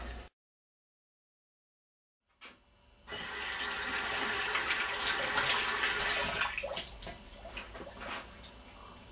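Hot water running from a tap into a vase, a steady loud rushing stream that starts after a near-silent pause and continues unbroken, easing slightly toward the end.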